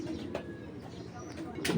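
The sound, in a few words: pigeons cooing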